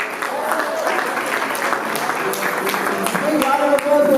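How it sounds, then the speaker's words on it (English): An audience at a youth awards ceremony applauds in a steady, crowded wash of clapping, with a voice talking over it. "Big round of applause for Elisha Kumbo"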